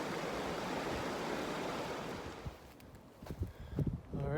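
Water rushes steadily at a backpacking stream crossing on the Beaten Path in Montana, loud and close for the first couple of seconds, then fading to a quieter flow broken by a few splashes and knocks.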